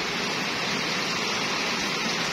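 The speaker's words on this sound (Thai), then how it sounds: "ฝนตกมาชาวนาดีใจพี่น้องเอ้ย" Steady, dense rain falls over farmland during a hot-season break, a continuous broadband hiss holding even loudness throughout with no voices.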